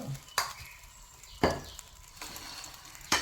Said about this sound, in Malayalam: ഒരു സ്പൂൺ എണ്ണ ഒഴിച്ചു കൊടുത്തു